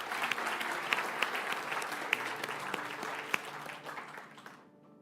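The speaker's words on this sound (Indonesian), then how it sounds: "Saya mau ajak kita semua yang non-full-timer memberikan tepuk tangan pada setiap full-timer." An audience claps together in sustained applause at a church-style gathering, dense and steady with a few sharper claps standing out, fading away near the end.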